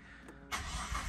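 A rare abandoned Japanese drift car's engine cranks and catches, then runs with a loud, steady rumble up close.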